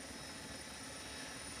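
Helicopter flying over a Volvo Ocean Race sailing start off Cardiff, its rotor and engine a steady, broadband whir heard from inside or close by, with no speech.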